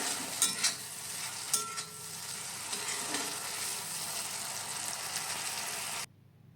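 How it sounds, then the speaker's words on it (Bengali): Potatoes frying with salt and turmeric powder, cooked for egg soya chowmein, sizzle steadily in a pan with a few scraping stirs early on, before the sound cuts off abruptly. "আলুটা যখন বেশ খানিকটা ফ্রাই হয়ে গেছে"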